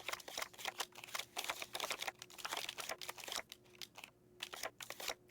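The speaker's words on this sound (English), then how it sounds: "I love that sound. That shuffling sound." A quick, crisp shuffling sound in a Nancy Drew video game comes as dense bursts of rapid clicks and flutters, close and clear with brief pauses between runs.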